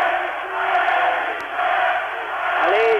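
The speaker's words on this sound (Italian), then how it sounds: "C'è un gran tifo per Gilbert Delè." A boxing crowd in Avoriaz, France, cheers and chants for a boxer at a 1993 bout, a sustained, distant roar of many voices that swells and fades in waves.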